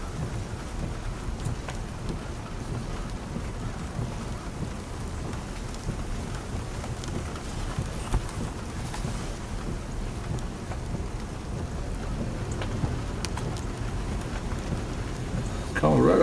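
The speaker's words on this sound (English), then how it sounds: "raining now for 2 days, for about 48 hours. Pretty heavy at times." Heavy rain pours down during a multi-day storm in Bastrop, Texas, with thunder folded into a dense, steady roar that holds close and loud throughout, with no clear talk.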